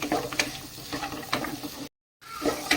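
Banana flower curry with chili powder stirred in a pan, a spoon scraping and sizzling in short strokes, close, broken by a brief silence.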